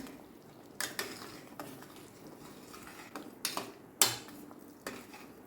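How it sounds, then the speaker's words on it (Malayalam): A spoon scrapes and knocks against a metal pot of boiling gooseberry pulao in a few irregular strokes, fairly quiet, with a soft bubbling hiss underneath and no talking. "2 മിനിറ്റായി, നന്നായിട്ട് തിളച്ച് വന്നിട്ടുണ്ട്. ഇളക്കി കൊടുക്കാം."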